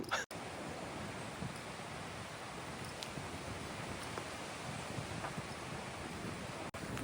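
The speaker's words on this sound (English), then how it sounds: "I don't know if you can hear me over this wind" Steady wind blows across a seaside countryside walk near a cove, a broad constant roar of gusting air buffeting the microphone, continuous and loud with no clear talk.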